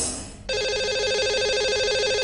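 A telephone rings in a steady electronic trill while a radio show dials out to a lucky caller, starting abruptly after a brief quiet moment and continuing loudly with no talk.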